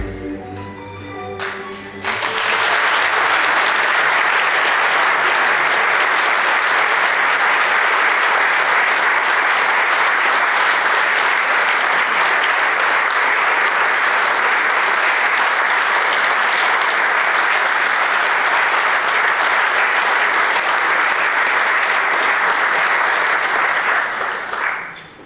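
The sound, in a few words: audience applause at municipal celebration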